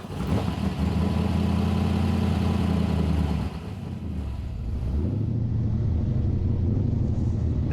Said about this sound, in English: There's nothing like the rumble of a V8.